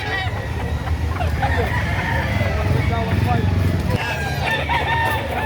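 A Boston Black rooster crows repeatedly at a busy chicken market in Lipa, Batangas, its loud calls rising over the background murmur of people talking among the birds.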